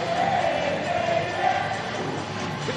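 A sold-out crowd of Party Animals fans at a Bananas game in a spring-training baseball stadium, a steady broad roar of many voices that holds at an even level throughout.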